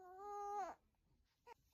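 An infant lets out a short, drawn-out babbling cry close by, then a faint brief whimper after a pause in an otherwise quiet indoor room.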